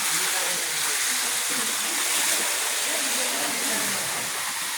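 Steady rushing hot spring water at Red Rock Hot Spring, Valencia, Negros Oriental, flows loudly and continuously from the mountain, a dense hiss of a running stream with no pauses.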